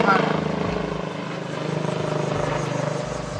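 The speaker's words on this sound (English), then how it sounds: "the only reason that helicopter going over right now" A helicopter passes close overhead with a loud, steady rhythmic rotor thump and engine drone filling the scene from start to finish.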